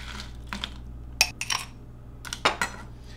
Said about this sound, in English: fill your glass with rocks